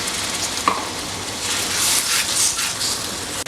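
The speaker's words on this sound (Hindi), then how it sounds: "थोड़ा सा पानी डाल देंगे।" Water poured into masala and green peas frying in a pan for a dhaba-style potato and pea curry, giving a steady close hiss and sizzle with a brief splash near the start.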